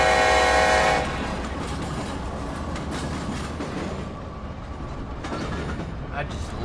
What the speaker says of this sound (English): I just love that EMD ST70 Ace horn on the BNSF EMD ST70 Ace